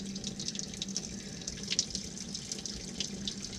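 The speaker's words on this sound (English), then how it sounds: "we got the engine draining" Water from a Mercruiser boat engine drains steadily after a plug is pulled during winterizing, a continuous close trickling splash with small bright drips flicking over it, no voices.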